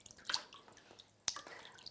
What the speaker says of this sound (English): I'm going to gently, with my free hand, pour water over baby's head, like this.